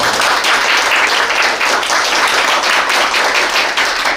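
Loud, dense applause from a forum audience in Korea, sustained steadily for a few seconds with no talking.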